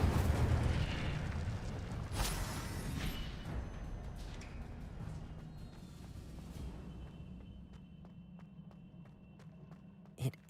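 An Incendio fire spell in the Hogwarts Legacy video game bursts with a loud, rumbling whoosh that slowly fades over several seconds, followed by faint clicks and a sharp final hit.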